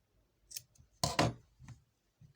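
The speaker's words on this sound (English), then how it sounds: "I'm also going to cut this other side here." Scissors snip through fabric for a drawstring bag in a few close, crisp cuts, with one louder double snip in the middle, in a quiet room.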